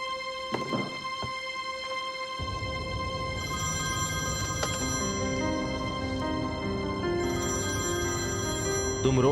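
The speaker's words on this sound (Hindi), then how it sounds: "फोन उठाओ, जल्दी करो।" Telephone ringing with a repeated electronic ringtone over steady rain-like background noise, with music or ambience building beneath it.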